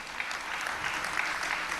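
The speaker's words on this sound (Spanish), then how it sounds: "Dale otro fuerte aplauso al Señor." A church congregation claps loudly and steadily in a dense, continuous wave of applause, heard alone with no talk over it.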